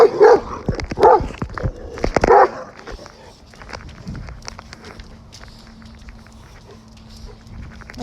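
A dog barks in a few sharp bursts up close, then the sound drops to quieter shuffling and a low steady hum.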